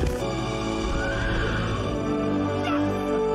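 Horse neighing from the movie Jumanji plays loudly and continuously over layered film score and effects, with no talk over it.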